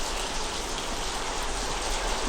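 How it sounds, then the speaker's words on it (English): Heavy rain in the White Day video game forms a loud, unbroken wash of hiss, constant and close for the whole stretch, with no voices over it. "I love rain, but it's so loud and I can't hear you"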